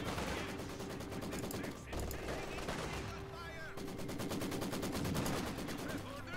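Company of Heroes 2 battle with steady rattling machine gun fire from a Maxim and mortar shelling, a dense continuous din of game combat sounds while a commentator talks.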